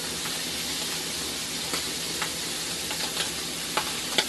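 Beef taco meat mixed with taco seasoning is stirred around a hot frying pan, giving a steady close sizzle with a few soft scrapes of the spoon and no talking.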